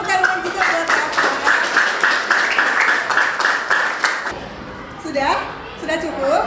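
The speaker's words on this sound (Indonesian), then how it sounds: "Oke, tepuk tangan juga buat Rafa." Classroom applause for a student, a burst of brisk clapping from a group of pupils lasting several seconds before fading into scattered voices and movement.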